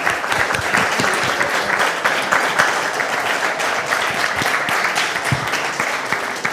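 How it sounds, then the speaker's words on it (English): A crowd gives a big, dense round of applause for a blockchain development team at a Coimbra meetup, continuous loud clapping filling the space with no pauses. "I would like to give a big round of applause to them"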